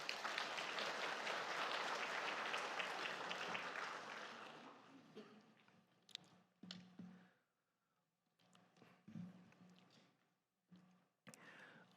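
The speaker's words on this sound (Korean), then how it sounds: "우리 박수로 환영하겠습니다" A church congregation at a Sunday afternoon worship service in Daegu applauds to welcome the pastor: loud, dense clapping for several seconds that fades out, after which a voice and a few scattered sounds follow.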